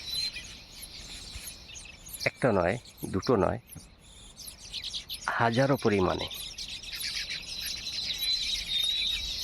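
Baya weaver birds chirp constantly at their hanging nests in trees in Rajasthan, a thin high twittering chorus heard from a distance, while someone talks loudly twice over it.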